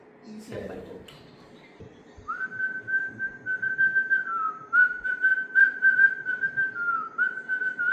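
A person whistles a devotional song in a clear, sustained melody with a few pitch shifts. A brief vocal sound comes first, then the whistling continues alone and fairly close.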